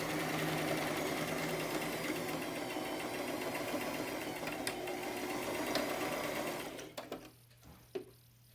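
A sewing machine runs continuously over darts in a seam, a steady close whirring chatter for most of the stretch before stopping abruptly and leaving a few faint clicks and handling noises.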